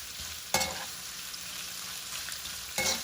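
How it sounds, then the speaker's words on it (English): Onions sauté in a pan with a steady, soft sizzle, interrupted twice by brief louder stirring scrapes. "it will take like about 2 minutes to saute the onions"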